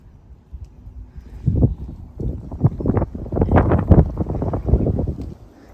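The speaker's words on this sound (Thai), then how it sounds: "ก็ยังมีลมแรงหนาวนะคะ" Strong cold wind buffets the microphone in a rose garden, a low rumbling roar that builds in gusty pulses and peaks in the middle before easing off.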